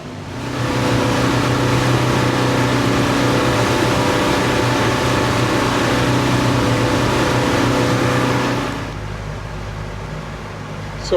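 A boat engine drones steadily and loudly on the Intracoastal Waterway near Venice, Florida, with a constant low hum and wind noise before it cuts off abruptly near the end.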